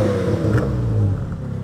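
A car with a new exhaust given a light blip or two of throttle, a close, steady engine rumble that swells slightly and then settles, with no talk over it.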